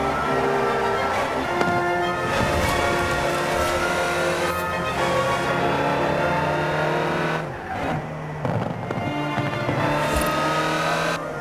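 A Land Rover Type 3 driven in Forza Horizon 4 gives a loud, continuous engine drone with shifting harmonics that dip briefly near the end before picking back up.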